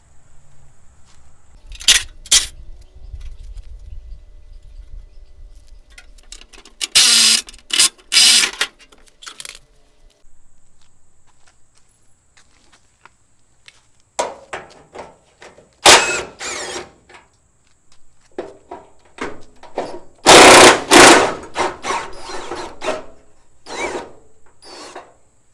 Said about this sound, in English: Alright, so now we can get back to taking our fender off.